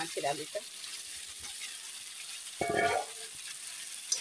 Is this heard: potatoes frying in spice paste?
yes